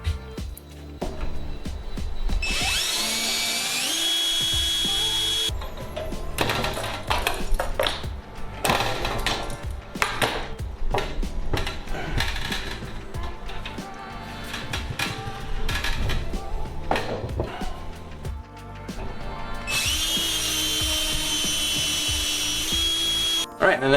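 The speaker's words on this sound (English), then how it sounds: "I'm going to go ahead and drill those out with a number 40 drill bit" A number 40 drill bit bores holes during assembly of a Sonex aircraft main spar. Two sustained high-pitched drill whines are heard, one early and one late, with metallic clatter and handling noises between them.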